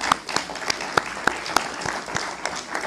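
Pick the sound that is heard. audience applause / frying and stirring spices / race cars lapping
audience applause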